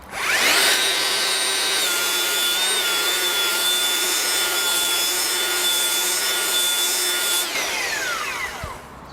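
Makita 40V cordless belt sander working on wood: a steady, loud abrasive whine with a high motor tone that starts up, holds continuously for several seconds, then spins down.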